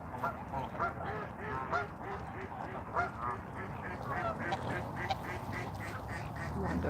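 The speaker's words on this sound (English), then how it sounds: "Look at these geese." Canada geese honk at a park pond at sunset, repeated overlapping calls coming in uneven bursts from a flock at moderate distance, with no talk.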